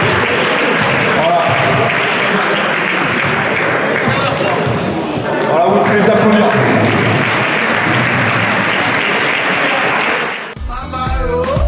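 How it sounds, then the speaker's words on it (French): A crowd gives sustained applause at a presentation of Guinea's national basketball team in France, clapping and voices blending into a loud steady roar that stops abruptly near the end. "Donc je vous demande des applaudissements bien forts"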